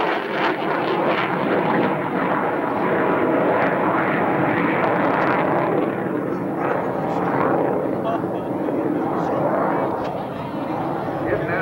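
A CF-18A fighter jet makes a vertical departure at a 1989 air show in London, Ontario, with a loud, sustained roar throughout and an announcer talking over it.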